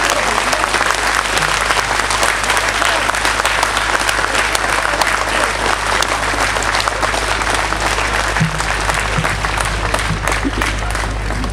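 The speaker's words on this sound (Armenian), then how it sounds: "Ուրեմն երես մեկ անգամ բարձր ծափահարություններ Արցախի մեր հայրենակիցներին։" A large crowd at a rally in Armenia applauds loudly and steadily throughout, dense clapping with no break and no clear voices above it.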